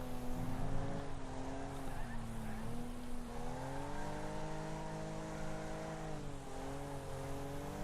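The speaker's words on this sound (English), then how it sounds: "Got its back tyres onto the grass and spun round a bit" A race car engine drones and revs steadily in Wreckfest, its pitch sliding up and down as the car runs wide onto grass and spins, with a faint tyre scrub underneath and little talk.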